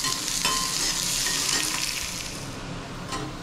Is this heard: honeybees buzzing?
no